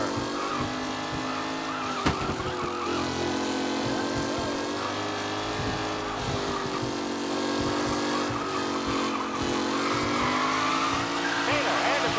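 Race cars in Mafia Definitive Edition roar continuously around a track on the final lap, their engines whining as they rise and fall in pitch, with brief tire squeals and an announcer talking over the racing.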